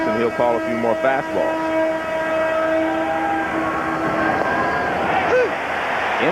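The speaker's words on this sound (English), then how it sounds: "You may hear the whistle from the train periodically in the background." Train horn from the Burlington Northern line near a Seattle ballpark during a baseball game, a long sustained tonal blast in the distance beneath a commentator's voice and crowd ambience.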